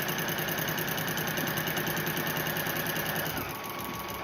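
A domestic sewing machine stitching the seam of a flannel rag quilt, a steady close mechanical whir with a fine rapid needle rhythm that runs evenly, then eases and slows near the end.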